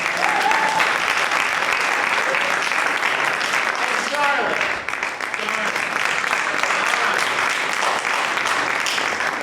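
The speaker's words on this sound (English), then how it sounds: "Give Colleen a big round of applause" Audience applause for student improv performers at a University of Dubuque show, steady dense clapping throughout with a brief dip midway, while a host speaks over it.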